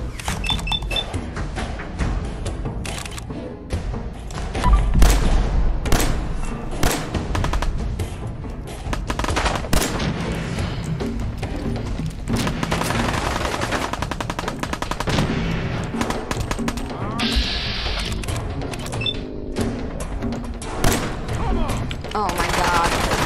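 Sustained gunfire in Fallout 4, repeated rapid shots and bursts running continuously for a long stretch, loud and close, with game sounds mixed in.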